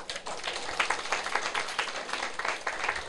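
An audience claps in a Taiwanese lecture hall, a dense, moderately loud patter of many hands that carries on throughout without a break.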